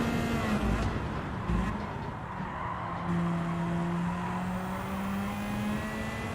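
Toyota Supra race car in Gran Turismo drones with a steady engine tone, shifting pitch as it accelerates, while tires squeal and skid through a corner, loud and continuous throughout.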